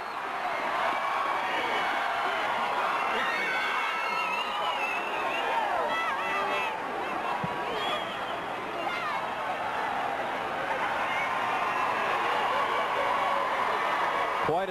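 A packed stadium crowd at a 2002 Class 5A state championship high school football game in Stillwater, Guthrie Bluejays against Tulsa Washington, roars and cheers loudly and without a break, with whoops and shouts rising from the stands throughout.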